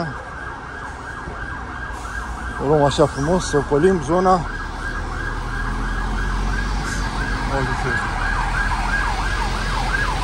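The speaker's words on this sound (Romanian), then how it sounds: "vine toată mașina de pompieri" Fire engine and police sirens wail continuously at a fire in a street, while a second siren yelps rapidly in bursts nearby; someone speaks Romanian over the sirens.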